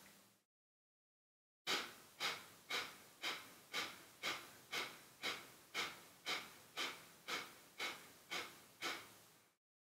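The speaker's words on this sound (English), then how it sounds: "we're going to take a deep inhale. Hold the breath for as long as comfortable and then exhale comfortably and completely." Slow, rhythmic breathing during an inversion practice: after a short pause, about fourteen evenly spaced breathy bursts follow one another, close and fairly loud, with no talking.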